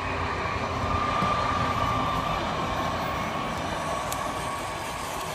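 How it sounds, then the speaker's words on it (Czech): A train passes at a distance beside an outdoor cooking spot, a steady low rumble and hiss sustained throughout at moderate loudness with no voices over it. "vlak!"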